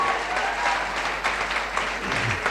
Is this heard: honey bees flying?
no